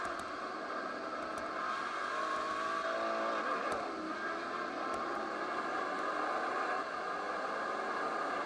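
Race cars in Project CARS, heard from outside in spectator mode, produce a continuous dense engine roar and whir, with cars sweeping past and an occasional faint click over the constant mix.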